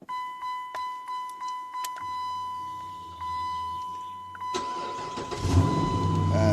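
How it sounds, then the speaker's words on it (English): A car fitted with an aftermarket immobiliser gives a series of short electronic beeps, then a steady tone. Its engine then cranks and catches with no key in the ignition, settling into a close, rising idle. "it started with no key in the ignition"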